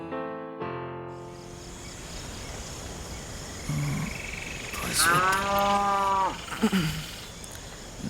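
A cow moos once in a long, drawn-out low call midway, preceded by a brief animal grunt, set against a quiet outdoor background with faint insect hum under a dark, cloudy sky.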